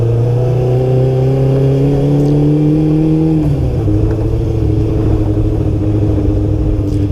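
A Kawasaki Ninja GPX600 motorcycle engine holds a steady loud drone, then its pitch drops about halfway through and it settles into a lower, rumbling idle, close and continuous.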